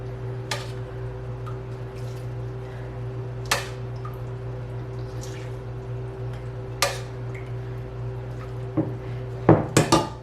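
Shredded cabbage coleslaw being stirred in a bowl gives occasional light clinks and taps of a utensil against the dish, sparse and close, over a steady low hum, with a quick cluster of knocks at the end.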